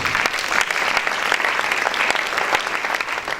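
A church congregation claps in praise of the Lord, a dense, even burst of applause from many hands filling the room for a few seconds, steady and fairly close.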